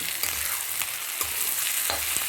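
Onion fries in a pan with a constant bright sizzle and several soft stirring scrapes at irregular intervals, heard up close with no voices.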